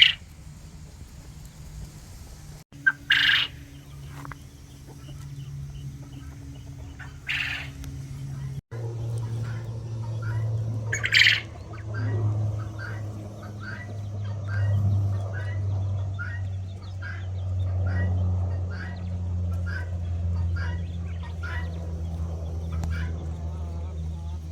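Japanese jumbo quails in a pen call repeatedly, short chirping cries rising now and then over a low steady background hum.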